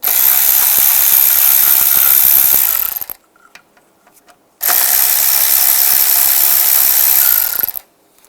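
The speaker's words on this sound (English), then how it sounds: "And these 2 10mm bolts in the front, use the 10mm socket." A ratchet wrench with a 10mm socket turns 10mm bolts on a 2010-2015 Toyota Prius inverter radiator. Two loud, rapid bursts of close clicking are split by a short quiet pause.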